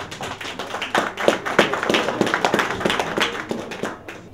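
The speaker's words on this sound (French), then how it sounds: "On applaudit très fort." Audience at a Cameroonian musician's album launch clapping hard, dense close hand claps in an uneven burst that rises and falls throughout.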